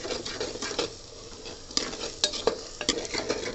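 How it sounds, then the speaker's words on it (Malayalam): Onions with salt being sautéed and stirred in a pan for potato podimas, a soft sizzle under quick scraping and light clinks of the spoon against metal, close and quiet, with no speech. "ആൻഡ് ഈ സമയത്ത് ഉപ്പ് ചേർക്കുമ്പോൾ അത് നന്നായിട്ട് വഴറ്റി വരും."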